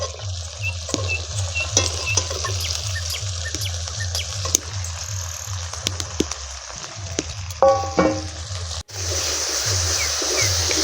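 Spice paste frying in a pan for rui fish kalia as green chillies and peas go in, a steady low sizzle with rhythmic stirring scrapes and a few clinks of a utensil, no voices.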